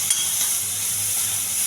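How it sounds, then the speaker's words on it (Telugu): Chickpea tempering frying in a pan with a little salt, a bright continuous hiss of sizzling oil, steady and close, with a faint tap near the start and no talk. "బాగా వేగనివ్వాలి"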